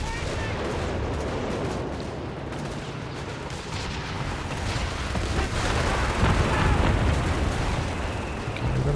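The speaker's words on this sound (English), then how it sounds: "Okay, we've got a bit of artillery." Artillery barrages in the real-time strategy game Company of Heroes 3, a continuous roar of distant booms and gunfire that swells louder toward the end.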